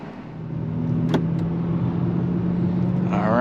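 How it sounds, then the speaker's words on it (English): A 2025 Nissan Kicks SR pulls away and drives, a steady mid-pitched engine drone rising slightly in level, with a brief click and a faint tone near the end. "let's take a drive in the new Kicks"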